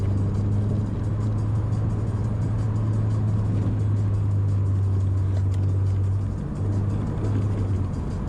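A Subaru XV with all-wheel drive and slightly raised suspension driving along a winding road, its engine and tyres giving a steady, loud rumble with a low hum throughout, without speech.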